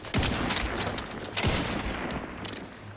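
Video game gunfire comes as two loud bursts of shots about a second apart, each trailing into a dense, noisy rattle of overlapping reports that stays heavy to the end.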